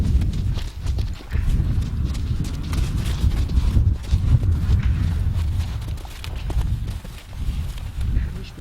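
Horses being led on a rope walk steadily, their hooves clip-clopping in a continuous uneven rhythm close by, with occasional shuffling and faint background voices.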